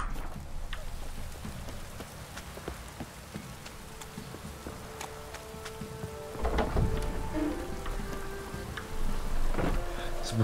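Steady rain hisses across a scene in The Witcher 3: Wild Hunt, with scattered droplet taps and a swell of heavier downpour near the end, under soft low game ambience.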